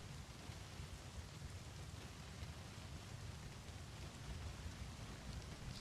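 Rain falling in a survival video game played on extinction difficulty, heard as a constant even hiss with a soft low rumble, steady from start to end and free of speech.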